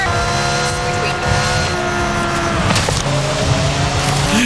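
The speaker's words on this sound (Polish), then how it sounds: "Bardzo tak raptownie skręca ten samochód. A potem wchodzi w poślizg." Car racing in Forza Horizon 5 at night, an engine whining and shifting pitch as the car swerves sharply and slides, loud and continuous with a sweeping rise near the end.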